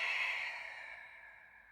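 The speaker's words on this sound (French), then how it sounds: "J'exagère ma respiration." A long, exaggerated breath pushed out through the mouth during a Pilates exercise, a close, airy sigh that starts strong and slowly fades.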